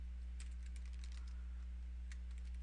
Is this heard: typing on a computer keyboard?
yes